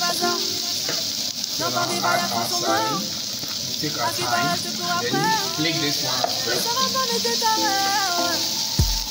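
Ghanaian street noodles frying in a pan, with sausage and sardine among the ingredients: a steady, close sizzle runs throughout while a voice talks over it and a short clatter sounds at the end.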